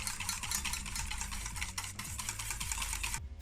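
Custard mixture of egg yolks being whisked as sugar syrup is poured in, a rapid rhythmic metallic whisk clatter against the bowl, steady and close, with no one talking.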